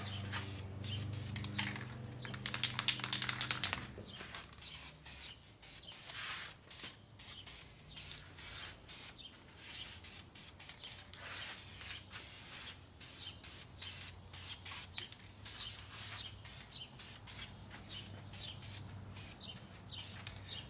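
Spray paint misted onto a finned valve cover as a light tack coat, with many quick short hissing bursts in an irregular rhythm after a denser opening stretch.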